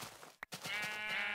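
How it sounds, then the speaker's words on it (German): Minecraft sheep bleating in the video game, a short wavering cry followed by a longer sustained bleat, loud and close with no talk over it. "Schafe sind immer ein gutes Zeichen."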